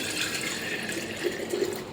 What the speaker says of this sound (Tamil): இதில் முதல்ல கொஞ்சம் தண்ணியை ஊற்றிக்கலாம்.